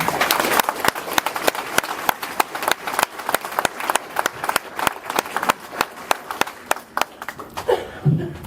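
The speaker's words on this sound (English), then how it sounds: "So hand of applause." Audience at a Memorial Day veterans ceremony in Hillsborough applauding, dense and fairly close hand clapping that fades near the end, with a few voices in the background.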